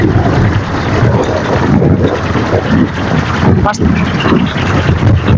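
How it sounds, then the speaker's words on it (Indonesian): Strong outdoor wind roars steadily and loudly against the microphone where Sundanese kolecer wind toys are flown, a dense continuous rush with faint voices underneath. "Pas tarik angin ka dieu yo"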